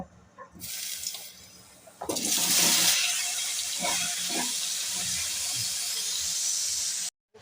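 Sweet pumpkin pieces fry in a frying pan for a beef curry, a steady close hiss and sizzle that swells loudly after a quiet start and runs on evenly before cutting off.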